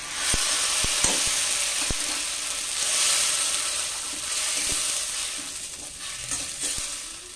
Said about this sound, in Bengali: টমেটো বাটা দিয়ে দিচ্ছি।